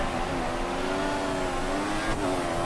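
An F1 car engine in the F1 2014 racing game at the Italian round holds a steady, fairly quiet high whine under throttle, with no talk over it.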